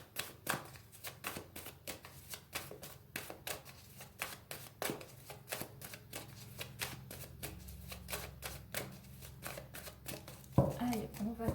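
A deck of tarot-style cards is shuffled and cut over and over in a steady, close flurry of riffles and slaps, with quiet speech faintly underneath.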